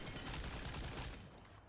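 Rapid burst of gunfire from a PUBG Mobile firearm, about nine shots in quick succession, dense and continuous before cutting off near the end.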